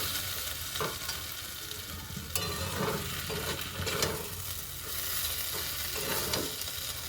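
Pointed gourd and peanuts stirred in a hot frying pan, with a steady sizzle throughout and repeated scraping strokes of the spatula at a close, even level, no voices.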